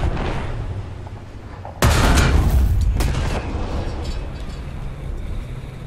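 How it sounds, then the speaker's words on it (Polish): Tank cannon shot from a leKPz M41 in War Thunder: one sudden loud boom that hits hard and then rolls off as a long rumbling decay over steady background engine noise. "Pierwszy strzał."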